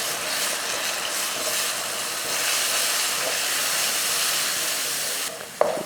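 Ground coriander, chili, kuzhambu powder and turmeric with a ground paste sizzle in hot oil for a sardine fish curry. A loud, continuous frying hiss fills the whole stretch, ending in a brief sharp clatter.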